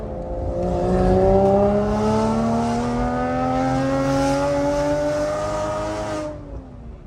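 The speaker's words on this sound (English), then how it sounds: "You closed your eyes in that tunnel, it didn't sound like a Boxster." A Porsche Boxster engine roars loud and close through a tunnel, with rising and falling harmonic tones as it revs and accelerates for several seconds before easing off at the end.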